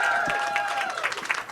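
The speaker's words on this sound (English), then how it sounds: "So give yourselves a round of applause" A crowd at a political rally cheers and claps in a brief, dense burst. Voices and a whistling tone rise above the applause.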